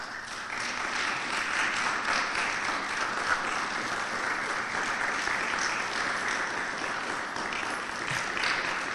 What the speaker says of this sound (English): give him another round of applause, y'all